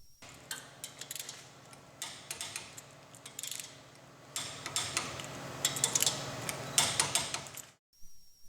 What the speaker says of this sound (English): Use your torque wrench and start at 50 foot-pounds for the first torque